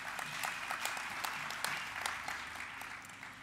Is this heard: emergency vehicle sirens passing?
no